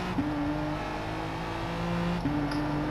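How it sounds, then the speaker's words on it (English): Steady engine drone from inside a race car, holding a constant low tone with no revving, as if coasting off the throttle. "you hear us lifting, coasting, nice and easy on the brakes"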